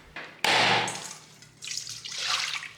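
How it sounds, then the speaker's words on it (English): Coconut water splashes from a freshly broken coconut into a container, one sharp close gush followed by lighter trickling and dripping, with no talking. "Break your coconut and reserve the water."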